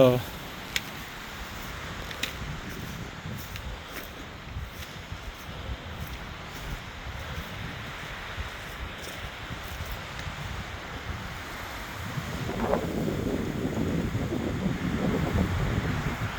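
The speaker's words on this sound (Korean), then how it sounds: "바람 많이 붑니다." Strong wind blowing outdoors in open country, a steady rumbling buffet against the microphone that grows louder and rougher toward the end, with a voice speaking briefly at points.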